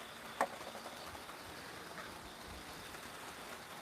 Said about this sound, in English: Pleasant rain though, huh?